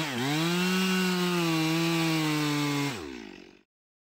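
Chainsaw bogging into a back cut while felling a back-leaning tree planned with a wedge, the bar slightly shorter than the trunk's diameter; a loud, steady labouring drone for about three seconds, then winding down and stopping.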